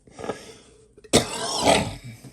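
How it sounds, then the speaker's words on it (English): A burst of harsh, breathy noise, like a cough or throat clearing, follows a softer stretch of faint rustling; fairly close and loud. "And coughing too."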